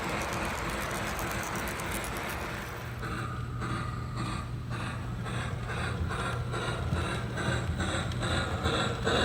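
A Lionel LionChief Plus 2-8-4 Berkshire model train runs around a layout, giving a steady mechanical clatter with rhythmic wheel clicks and a low motor hum that stays even and fairly close.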